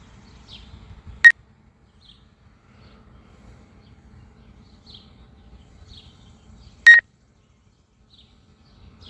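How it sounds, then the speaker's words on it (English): Two short, sharp electronic beeps several seconds apart over near silence with faint low rumble; distinct and fairly close. "This thing keeps beeping every now and then."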